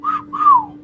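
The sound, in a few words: voice imitating a cat call whistle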